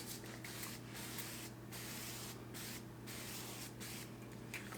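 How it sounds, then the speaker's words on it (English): Avocado oil cooking spray hisses onto a tray in several short bursts separated by brief pauses, close and soft over a steady background hum. "first, start with the avocado spray"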